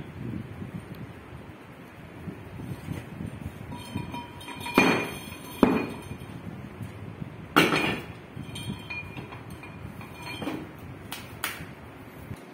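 A 4.89 kg compaction hammer drops 450 mm onto soil in a CBR test: several sharp metallic impacts at irregular intervals over a steady low rumble, each a brief broadband thud-clink, moderately close.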